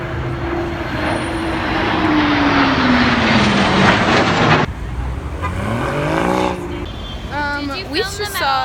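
Airplanes flying overhead at an air show in Paris, a loud roaring jet pass with a falling engine whine, followed by nearby talking voices.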